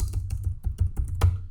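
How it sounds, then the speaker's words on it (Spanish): Search terms are typed on a computer keyboard in a quick, uneven run of close, crisp keystrokes, heard alone without talk. "Podemos teclear los términos que necesitamos."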